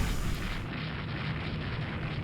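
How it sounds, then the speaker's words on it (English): A heavy, rumbling boom of naval cannon fire in the video game Rule the Waves 2 rolls on without pause, dense and loud, like a sustained barrage. "Cannons are firing."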